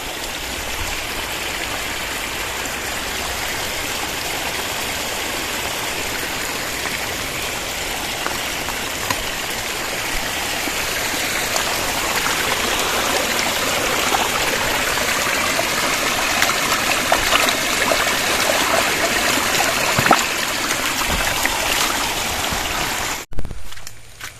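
Steady rushing flow of a forest stream running down from Theerthakallu waterfall, loud and continuous with a bright, hissing texture, ending in a brief sharp knock.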